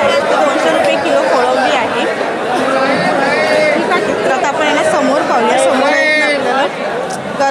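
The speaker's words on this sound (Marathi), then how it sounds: "गर्दी खूप आहे, त्यामुळे आपल्याला व्यवस्थित दाखवता येत नाही" Dense, loud crowd chatter fills a busy wholesale fish market at CSMT in Mumbai, with many overlapping voices of buyers and sellers haggling close by in a steady, unbroken din.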